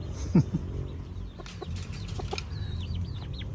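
Garden chickens clucking close by, a loud squawk early on followed by scattered soft clucks and a few higher bird calls over a quiet outdoor background.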